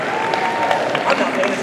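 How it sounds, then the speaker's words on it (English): Audience applause at an anime convention masquerade costume awards in Los Angeles, a steady wash of crowd clapping heard under a speaker's voice over a hall sound system. "If I can get a round of applause, please."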